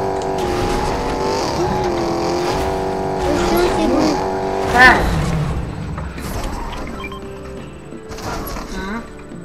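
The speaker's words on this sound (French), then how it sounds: "Une voiture là-dedans en plus" A car in the Fortnite video game drives with a revving engine whose pitch rises and falls, then gives a brief tire squeal near the middle, while players talk over it.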